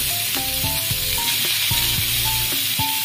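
Loud, constant sizzling of eggplant added to already-fried potato and pointed gourd in a pan, with a simple tonal melody playing underneath.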